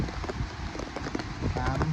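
Rain falls outdoors in a soft, continuous patter of scattered drops striking surfaces, fairly quiet and even throughout.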